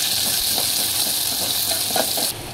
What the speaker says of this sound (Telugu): దీంట్లోనే ఈ ఉల్లిగడ్డ, పచ్చిమిర్చి వేసుకోవాలి.